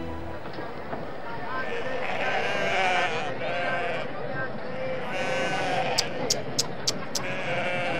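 Goat bleating at a rural village fair, a few wavering bleats over a busy background with people talking and some clip-clop sounds.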